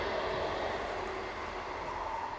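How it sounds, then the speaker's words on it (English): A train runs on a nearby railway line to Waterloo, a steady low rumble and broad wash of rolling noise that stays even and moderately distant, with no talking. "oh, that's a train, by the way."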